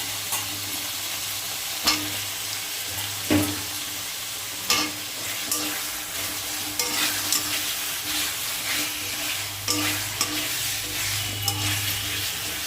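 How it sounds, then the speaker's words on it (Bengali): Spices and potatoes stir-fry in a pan for a flour-based vegetable dish, a steady close sizzle broken by repeated scraping stirs of a spoon every second or two, with no talking. "এই মশলাটা ভালো করে কষাবো। এর মধ্যে আলু দিয়ে দিব।"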